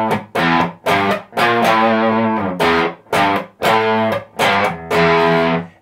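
A riff on a distorted electric guitar, loud chunky power-chord stabs in a stop-start rhythm, played alone and close.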